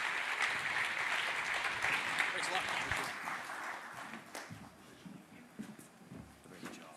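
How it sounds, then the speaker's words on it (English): Audience applause for panelists at a blockchain summit in DC, a broad steady wash of clapping that thins out after a few seconds into scattered claps with some voices underneath. "please offer a round of applause to our panelists today"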